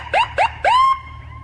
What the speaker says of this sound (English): It was lights and sirens.